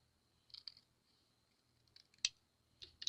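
Scissors snipping greeting card paper: a few short crisp cuts, sparse and close, ending in a louder quick snip, with silence between them.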